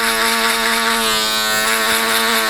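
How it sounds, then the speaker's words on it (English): An electric foil shaver buzzing against hair during a skin fade haircut, a loud, steady close-up hum with a strong tonal drone that holds for the whole stretch. "So follow that right the way guys with the foil shaver."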